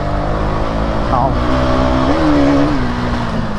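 A motorbike roars hard under full acceleration, its engine tone climbing steadily and loud throughout, with wind rush over the microphone and a voice briefly audible.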